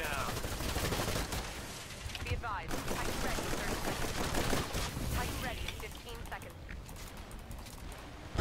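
Rapid bursts of gunfire from the video game Titanfall crackle almost without pause, dense and loud, mixed with clattering game effects and a voice talking over them.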